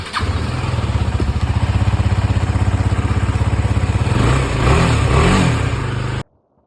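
A motorcycle engine starts and settles into a loud, close, steady thumping idle, then revs up in a few swells before cutting off abruptly into silence.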